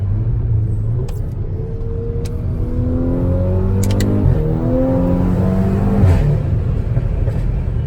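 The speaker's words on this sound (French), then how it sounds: "Ça tire des coups de calache, des rafales, c'est insolent." Tuned Volkswagen Golf 6 R Stage 2+ accelerating hard through the gears, loud close engine rumble and rising revs, with a few sharp exhaust crackles breaking through near the middle and end.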